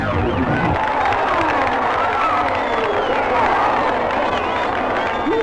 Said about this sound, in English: the crowd went berserk